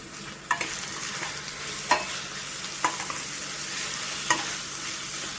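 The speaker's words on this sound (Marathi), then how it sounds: "आता आपण ह्याच्यामध्ये टोमॅटो ॲड करूया." Tomatoes frying with ginger garlic paste in a pan, a soft steady sizzle broken by a few sharp scrapes of a spoon stirring, close and fairly quiet.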